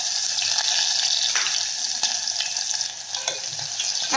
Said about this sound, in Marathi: जिरे चांगले फुलले की त्यामध्ये आपण लगेच बारीक चिरलेला कांदा घालून घेऊया।